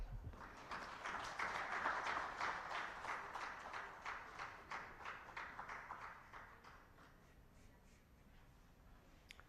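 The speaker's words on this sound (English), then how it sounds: "Another round of applause for the Executive Director, National Forest Authority" Conference audience applause at a World Wildlife Day event on conservation: faint, distant clapping that is busiest early on, then gradually thins out and dies away.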